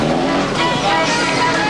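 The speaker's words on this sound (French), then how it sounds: "Les voitures passent devant les contrôleurs" Rally cars in the Transcongo rally roll past a checkpoint, producing a loud, continuous broadband engine and road roar close by with no clear gaps.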